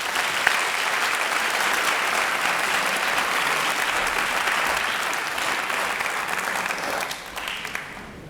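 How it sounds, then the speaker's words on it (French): Lecture-hall audience applauding a CNRS gold medal winner, a full, steady roar of many clapping hands that holds for several seconds before thinning out toward the end. "faut l'applaudir"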